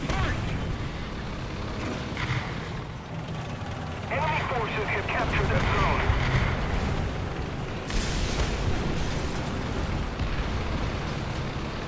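Booming explosions from bombs dropped in the War Thunder combat game rumble and crackle over a continuous engine drone, with a sharper blast near the end and a voice talking over it.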